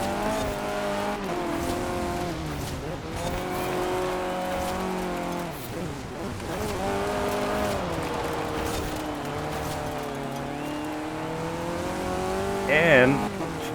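Cars racing through an autumn forest in Forza Horizon 4, engines droning and shifting pitch continuously with a brief tire squeal near the end, while a voice talks over the game audio.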